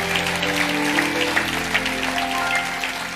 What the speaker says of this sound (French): if you are clapping, do it well.